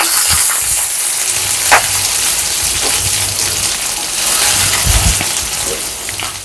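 Green chillies and onions fry in hot oil for a spicy chicken pepper fry, giving a loud, steady, rain-like crackle and sizzle with a few clinks of stirring close by.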